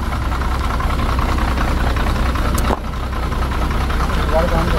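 A car engine idles steadily at close range before a damper burnout attempt, a loud continuous rumble with one brief dip near the middle.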